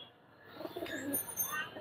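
Pigeons at a large pigeon market in Khalishpur, Khulna, give soft coos and brief chirps. The calls are faint and uneven, with low crowd murmur underneath.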